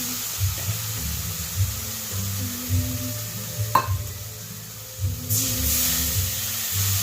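Ground cumin, coriander, turmeric and Kashmiri chilli powder with green chillies sizzling in a pan, with close stirring scrapes and low knocks, a sharp clatter midway, and a brighter hiss swelling near the end.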